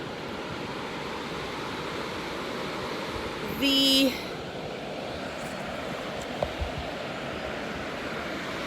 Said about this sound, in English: flowing water that's just down from where I am right now